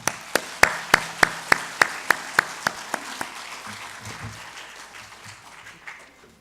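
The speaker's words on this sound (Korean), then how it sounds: "자, 우리 추수감사 주일 칸타타 시작할 때 여러분 뜨거운 성원의 박수와 함께 모시겠습니다." A church congregation claps at the start of a Thanksgiving Sunday cantata: about a dozen crisp claps in a steady beat, then a fade into softer, scattered crowd noise, all fairly quiet.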